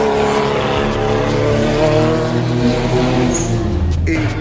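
A Toyota AE86 rally race car's engine runs steadily and loudly at close range, its harmonic drone shifting in pitch as the revs change, with a voice speaking over it.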